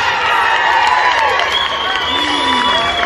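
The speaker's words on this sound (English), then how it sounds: "I really feel like those shoes deserve an extra round of applause." A rally crowd at a Back the Blue event claps, cheers and whoops loudly and continuously, with shouting voices mixed into the dense noise.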